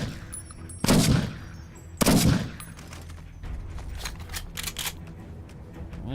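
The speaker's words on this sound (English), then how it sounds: "Love the firing sound effect." Scoped rifle fired in Fallout New Vegas: two loud, close shots about a second apart, each with a booming tail, followed by quieter mechanical clicks and handling sounds.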